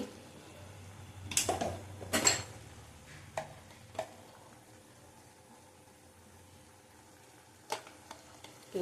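Sugar and a spoonful of ghee go into cooked dal, with a few close bursts of sizzling and spoon clatter early on, then a quiet low simmer and a couple of later knocks.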